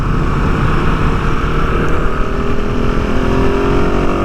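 A KTM 690 Enduro R single-cylinder dual-sport motorcycle engine drones steadily while riding, loud and close, with rising harmonic whine as revs climb and wind buffeting underneath.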